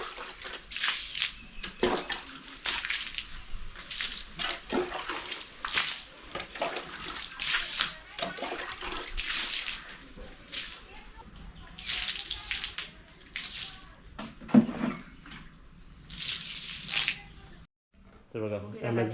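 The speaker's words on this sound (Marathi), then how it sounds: "सिमेंटचं काम असल्यामुळे आपल्याला कसं पाणी पण एकदम व्यवस्थित मारलं पाहिजे" Water spraying onto fresh cement construction work, a steady hissing wash broken into repeated bursts over about nineteen seconds, with a brief pause near the end.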